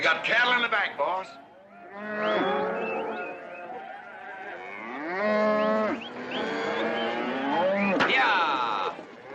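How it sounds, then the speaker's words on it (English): Cattle in the back of a truck give several long, loud moos one after another, with a few shorter lowing calls between them. "You got cattle in the back, boss."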